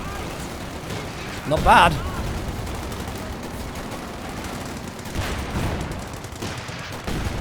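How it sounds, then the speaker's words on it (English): Grenade explosion and gunfire in Company of Heroes 2 during a 2019 World Championship match, with a loud burst near the two-second mark over a steady bed of battle noise while a caster talks throughout. "Grenade coming in from the cavalry. Gonna get a counter grenade."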